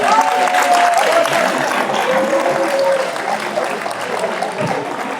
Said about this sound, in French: Applaudissements pour Sofia s'il vous plaît.